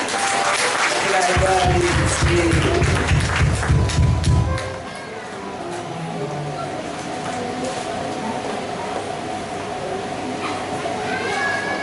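Congregation at an evangelical church Sunday service applauding loudly together with a low rumble for about five seconds, then the clapping fades into a quieter hum of the room with scattered voices.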